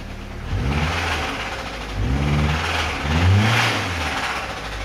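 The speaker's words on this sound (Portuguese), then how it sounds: "Olhem só como é que tá o barulho desse motor aqui" A Ford Focus engine, in for an engine rebuild, revs in three short bursts close by, rising and falling over a rough idle.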